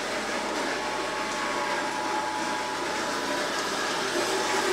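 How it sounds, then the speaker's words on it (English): Bandsaw cutting through metal tube in a workshop, a steady dense broadband whine and rasp running continuously and fairly loud with no pauses or voices. "let's get over to the bandsaw and let's just do a little cutting and taking apart"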